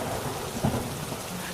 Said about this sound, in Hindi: तभी अचानक फिर से भयंकर बारिश शुरू हो जाती है।